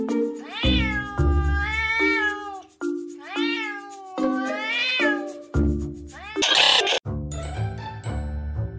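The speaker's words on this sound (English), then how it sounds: "Oops, it's just the kitten meowing." A kitten meows repeatedly, close and loud, in a run of rising and falling calls, with a brief bright jingle near the end.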